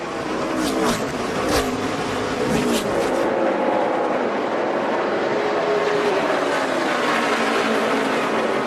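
NASCAR Xfinity Series race cars on the last lap at Bristol, a dense, steady roar of engines that holds loud throughout with brief higher whines early on, no talk over it.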